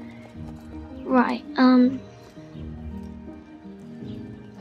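Hooves clop steadily under a horse in the Star Stable video game, with a short neigh rising over them and a voice speaking briefly.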